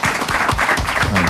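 A studio audience on a French comedy show claps loudly to vote for a contestant, close, dense applause with faint voices beneath, sustained throughout.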